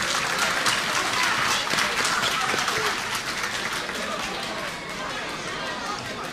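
An audience bursts into applause, a dense wash of many hands clapping close and loud. The clapping thins slightly toward the end, with a voice heard among it.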